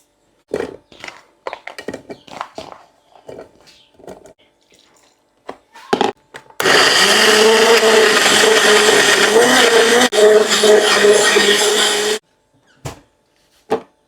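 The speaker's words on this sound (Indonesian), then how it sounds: "Lanjut saya mau haluskan bumbu." Scattered kitchen clunks and taps, then a blender whirs loudly for several seconds grinding a thick mixture of turmeric, garlic and shallots, stops, and a few more clatters follow.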